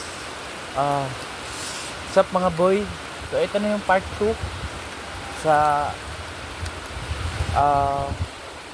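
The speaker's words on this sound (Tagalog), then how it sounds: "hangin at ulan dito sa amin" Steady rain and wind hiss in the background while someone talks intermittently in Tagalog over it, close to the microphone.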